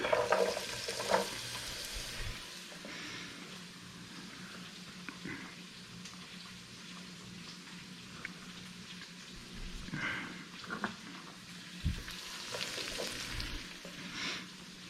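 Carrots and onions frying in a pan for fried rice with eggs, Chinese sausage and bacon, a soft steady sizzle with bursts of stirring and scraping, several louder knocks near the start and end.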